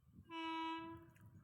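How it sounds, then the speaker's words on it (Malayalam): An approaching train sounds a single sustained horn blast from a distance. The steady tone lasts under a second over a low background rumble. "ട്രെയിനിൻ്റെ സൗണ്ട് ദൂരെ തന്നെ കേട്ടു."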